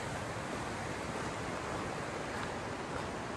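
Broadband rushing flow of the Tongue River in the snowy Bighorn Mountains of Wyoming in winter, a steady close wash of water with no break and no voices.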